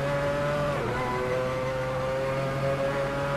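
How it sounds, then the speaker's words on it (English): A Mazda 787B rotary-engine race car in the video game Assetto Corsa drones loudly and continuously at Monza, its pitch dipping briefly before climbing and holding a high, buzzing rev. "I love these rotary engines though, you can just rev the ever-loving heck out of them."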